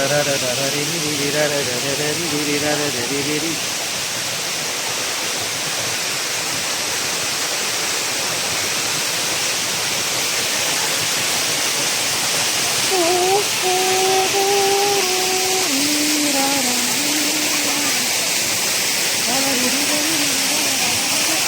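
A Kerala waterfall pours down as a constant loud hiss and roar while a family bathes nearby. Voices hum and sing over the rushing water near the start and again in the second half.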